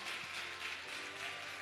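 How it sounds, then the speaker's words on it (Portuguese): A church congregation claps together in a brief burst of applause during a worship service, a dense, steady patter that fills the room with no voices over it. "Irmãos, aplaude aí em nome de Jesus."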